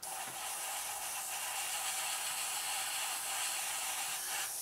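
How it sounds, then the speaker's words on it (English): An airbrush or spray can hisses steadily while paint goes onto a Revell 1/48 Junkers Ju52/3m model aircraft kit, a continuous close airy spray with no pauses. "spray the sides here, straight over the top"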